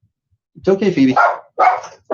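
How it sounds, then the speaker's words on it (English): Dogs bark indoors in a few short, loud bursts mixed with a person speaking close by. "Oops, sorry about my dogs."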